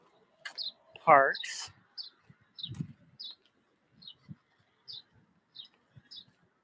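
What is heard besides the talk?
birds chirping in a small Paris park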